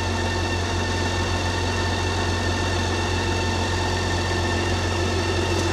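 A BMW K 1600 GT six-cylinder motorcycle engine idles steadily nearby, warmed up, a constant low mechanical hum and vibration with no revving or talk.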